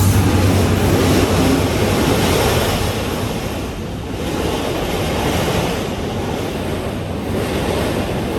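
A train passes close by, a loud, steady rumbling roar that fills the whole clip, with wind buffeting the microphone and no talk.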